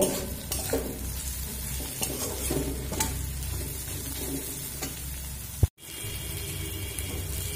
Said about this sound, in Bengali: দিয়ে আবার আমি 1 মিনিট মতো ভেজে নেব